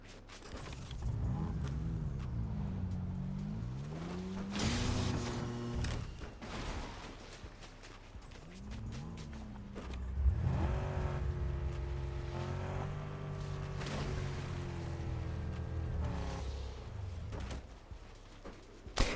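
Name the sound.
vehicle engine driving in Fortnite video game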